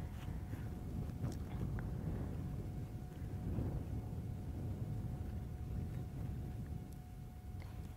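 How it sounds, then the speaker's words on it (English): Strong wind gusting across open plains at a Sabi Sand safari reserve at sunset, a steady broadband rush with rumbling buffets against the microphone, sustained for the whole stretch with slight surges and no speech. "this wind has suddenly come billowing out of nowhere. So that's what you're hearing,"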